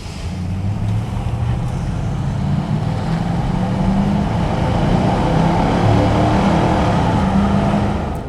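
A 1996 Chevrolet Suburban 4x4 with a 5.7 engine accelerates on a test drive, its loud, close engine drone rising and falling in pitch through gear changes under steady road and wind noise.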